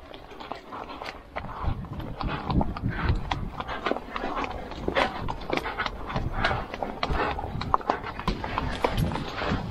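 A horse's hooves clip-clop steadily on firm ground, a quick continuous rhythm of close, crisp impacts with light rustling between them and no talk.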